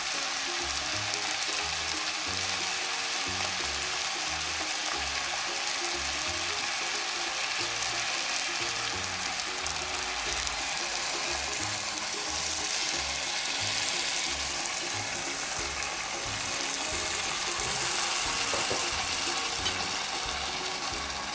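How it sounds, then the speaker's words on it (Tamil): A Sri Lankan-style fish curry simmering and bubbling steadily in a pan with tamarind added, a continuous soft sizzle and low bubbling that holds even and close throughout with no voices. "இதோட பழப்பொடியும் சேர்த்து விட்டு அவிய விடுவோம்."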